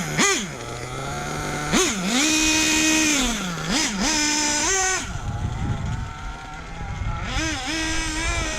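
Hobao Hyper VS2 RC car with a failing, clanking engine, revving up and down in loud rising and falling whines at close range, with a rattling mechanical undertone and no talk.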